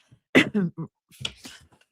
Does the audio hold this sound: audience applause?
no